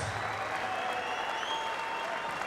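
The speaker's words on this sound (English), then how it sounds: "let's get a nice round of applause out here for both of these fighters." Arena crowd at the MGM Grand at Foxwoods applauding both boxers after a ten-round fight, a continuous loud roar of clapping and cheering with faint whistles, unbroken for the whole stretch.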